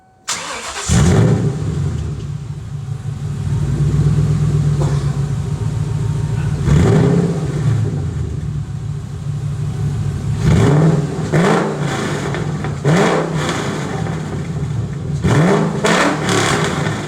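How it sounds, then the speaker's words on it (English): A 1998 Ford Mustang Cobra with a MagnaFlow Competition series exhaust starts up and idles with a deep, loud rumble, then gets repeated sharp revs that rise and fall near the end. "We got the exhaust all on."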